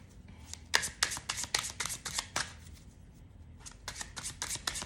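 Tarot and oracle cards being shuffled by hand make close, crisp riffling and flicking in quick bursts, with a short pause in the middle, and no one talks.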